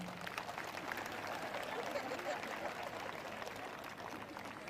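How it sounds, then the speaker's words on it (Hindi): An audience at a Christian ministry gathering claps continuously in a dense, even patter of many hands, moderately distant and sustained without a break. "खाली बातें करने वाले जो लोग हैं वो ताली बजाकर धन्यवाद कर रहे हैं।"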